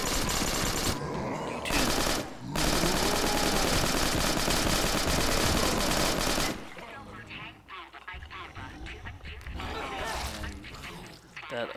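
Unsuppressed automatic gunfire in a video game rattles in loud, dense bursts for several seconds, then gives way to scattered, quieter shots and game sounds.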